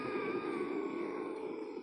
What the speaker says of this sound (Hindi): आप जब श्वास लोगे तो हल्की सी खर्राटे की आवाज आएगी आपको, जैसे गर्जना टाइप होती है।